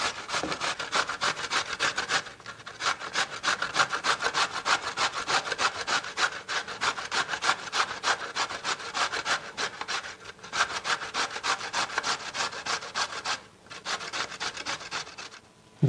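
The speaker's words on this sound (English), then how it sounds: "The box grater works fine" Zucchini rasps against a box grater in long, rapid, rhythmic strokes. The steady scraping stays near and continuous for about fifteen seconds, with a couple of short pauses.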